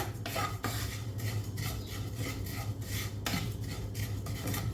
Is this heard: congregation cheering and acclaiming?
no